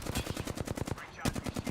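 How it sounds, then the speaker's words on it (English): Fuse's knuckle cluster going off in Apex Legends, a run of rapid popping bursts in quick succession, loud and close, with a brief gap before the pops resume. "Stand back, knuckle clusters firing."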